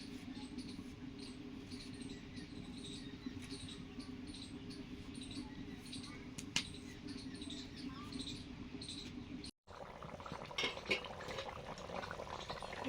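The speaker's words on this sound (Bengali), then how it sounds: "ঝোল ফুটছে" Fish curry broth with shrimp bubbling at a steady simmer in a pan, a continuous close hiss and pop of boiling liquid, with a brief clatter near the end.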